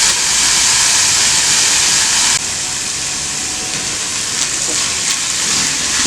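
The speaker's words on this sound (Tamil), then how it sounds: "மீடியம் ஃப்ளேம்ல வச்சுக்கோங்க. கொஞ்சம் இது வதங்கட்டும்." Chopped banana flower and onions sauté in a pan over a medium flame, giving a steady, close hiss that softens slightly partway through.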